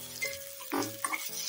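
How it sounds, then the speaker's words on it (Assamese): Onions sizzling in a little oil in a pan while cooking a dry fish and spinach chutney, a soft steady frying hiss with brief stirring scrapes, fairly quiet and heard alone. "পিয়াজ অকমান দি দিলো, অলপ ভাজি লওঁ।"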